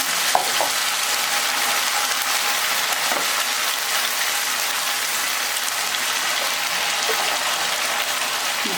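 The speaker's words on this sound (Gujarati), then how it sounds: "મરચું અને સાથે સાથે મીઠા લીમડાના પાન ઉમેરી દેવાના છે" Green chili and curry leaves sizzling in hot oil for a sabudana farali handvo, a dense steady hiss with occasional small pops, close and unbroken, with no voices.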